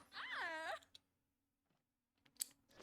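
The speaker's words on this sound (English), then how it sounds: "I didn't mean to yawn." A drawn-out human yawn with a rising and falling wavering tone, close and fairly quiet, followed by silence and a few faint clicks.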